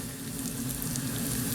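Cherry tomatoes soften in a hot pan while being stirred with a wooden spatula, giving a steady close sizzle without any talk.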